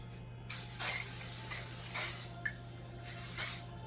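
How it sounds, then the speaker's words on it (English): Canola oil cooking spray sprays onto a pan in three hissing bursts, the second one longest, with brief pauses between. "I'm going to lightly spray the pan. I've got some canola oil spray."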